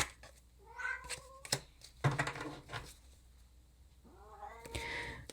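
A pet cat meows several times indoors for attention, with clear harmonic cries spaced across the moment, the last one drawn out, alongside a few faint knocks and handling noises.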